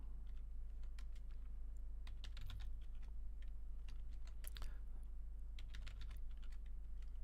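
Commands being typed on a computer keyboard, quiet clicks in irregular bursts with short pauses, over a steady low hum.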